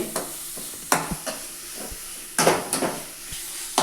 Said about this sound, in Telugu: అల్లం తెల్లగడ్డ పేస్ట్ కూడా పచ్చివాసన పోయేంత వరకు వేసుకోవాలండి